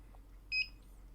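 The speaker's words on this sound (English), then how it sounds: "so that's why you keep hearing that beeping" An infrared sport timer sensor gives off a single short, clear electronic beep against a quiet room hum.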